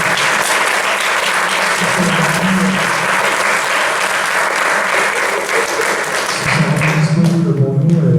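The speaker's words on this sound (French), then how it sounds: "je vous demande également d'applaudir nos intervenants, donc Vincent Furlan, Olivier Le Breton" Applause for the speakers at the close of an HR conference on employer branding, with sustained, loud clapping from a large room that continues steadily, while voices murmur underneath toward the end.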